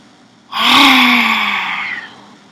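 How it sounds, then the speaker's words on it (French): A single strong, forceful breath pushed out through the mouth with the tongue stuck out, part of a guided breathing exercise; close and loud, lasting about one and a half seconds and fading toward its end. "On va expirer tout l'air par la bouche en tirant la langue au maximum"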